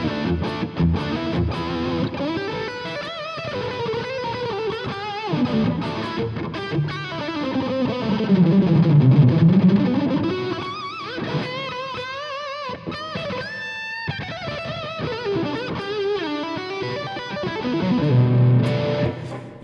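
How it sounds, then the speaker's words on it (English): Electric guitar played through the Legacy amp's overdrive channel with an EP booster and reverb, a sustained, distorted lead line with bends and chords ringing steadily throughout, no talking. "It's just the Overdrive channel on the Legacy with an EP booster and the reverb"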